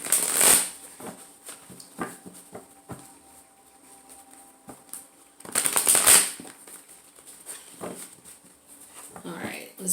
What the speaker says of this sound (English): let's break this up a bit just to make sure they're shuffled